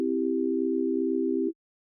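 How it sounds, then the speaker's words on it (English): A steady synth tone stays even for about a second and a half, with a slight wobble from a single LFO cycle in envelope mode, and then cuts off abruptly into silence. No speech accompanies it. "You can hear that it went through the LFO once and then just stopped and continued as normal."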